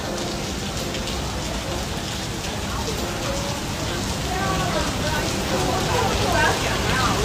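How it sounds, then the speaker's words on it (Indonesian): Rain falls outdoors during a family trip in Singapore, a dense, even hiss of drops striking surfaces that holds steady and grows slightly louder toward the end. "Oh, hujan."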